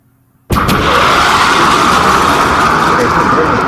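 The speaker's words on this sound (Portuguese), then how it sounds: "Então aqui ele está rompendo a barreira do som" A simulated aircraft breaks the sound barrier with a sudden loud boom after a brief near-silence, followed by a sustained, roaring broadband rumble that holds steady to the end.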